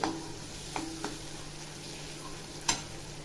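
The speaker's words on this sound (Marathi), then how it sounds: "हे बघा आता ह्याला मध्ये आता परतून घेते" Onion and tomato masala is stir-fried in a pan for dry chicken curry, a soft steady sizzle with a few light spatula taps and one sharper clink.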